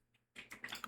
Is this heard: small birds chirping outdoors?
no